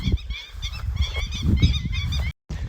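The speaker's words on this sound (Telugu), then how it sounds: "బర్డ్స్ చూడండి." Geese honk repeatedly in quick, loud bursts close by near the Godavari river, a harsh rhythmic chorus that breaks off in a brief gap near the end.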